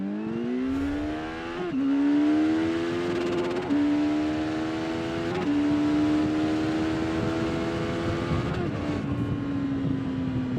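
Kawasaki Z900 SE motorcycle accelerating hard from standstill toward 100 km/h, the engine pitch rising through several gear changes with short dips between shifts, heard steadily and fairly close.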